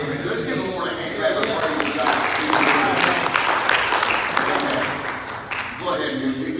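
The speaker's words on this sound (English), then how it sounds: "Let's give the Lord a hand clap." A church congregation breaks into hand clapping that swells in the middle and tapers off, with a preacher's voice heard over and around it.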